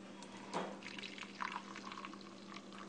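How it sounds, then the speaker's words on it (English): Espresso trickles from a Bialetti Moka Express stovetop pot into a cup, a faint, close, brief pour with small splashes and drips over a low background hum. "it's kind of hard to pour espresso"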